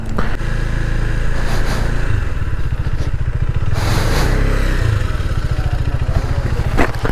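A KTM Duke 250 motorcycle climbs a hill road with hairpin bends, its engine droning loud and close throughout with steady rumbling harmonics and small swells in revs.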